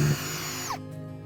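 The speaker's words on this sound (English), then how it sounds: "I'm gonna drill a hole on the outside of the circle, which will allow me to put my jigsaw" A power drill bores a starter hole for a jigsaw during a Huum heater chimney installation on a barrel sauna, giving a short, close whine that glides in pitch and then cuts off abruptly.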